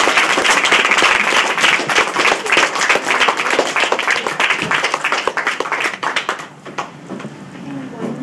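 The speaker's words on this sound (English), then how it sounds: "Let's give him a round of applause." An audience claps at a presentation, a burst of loud applause with some individual hand claps and voices mixed in, thinning out and fading over the last couple of seconds.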